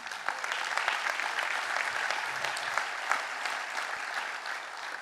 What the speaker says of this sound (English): I think you should all give yourself a round of applause for doing that.